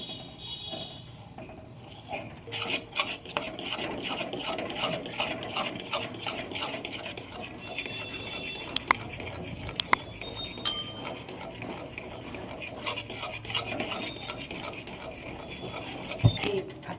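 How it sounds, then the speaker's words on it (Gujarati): Peanut chikki mixture scraped and stirred continuously in a pan over a low gas flame, a steady rubbing and scraping texture with occasional metallic clinks throughout. "ધીમા ગેસે એકદમ ચલાવવાની અને સતત ચલાવતા રહેવાનું છે"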